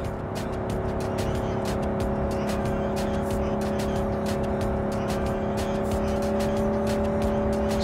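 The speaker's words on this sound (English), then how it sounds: "Drive, Jackie, just drive." A car driven through the city in Cyberpunk 2077, engine droning steadily with a constant hum and rapid ticking clicks over it, loud and unbroken throughout.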